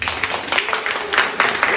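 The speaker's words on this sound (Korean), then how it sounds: "박수 한번 쳐주세요" Parents and guests at a school's autumn–winter term academic festival give a round of applause, with many hands clapping in bursts of uneven strength that swell and fade.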